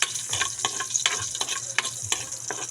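Garlic for adobo sizzles in a hot pan with steady crackling and the rhythmic scrape of a spatula stirring, close up with no talking.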